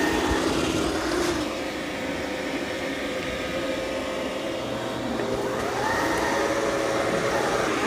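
A Dreame or Roborock robot vacuum mops and vacuums with a steady broadband whir and hum, close and continuous, its pitch shifting slightly as it moves across the floor.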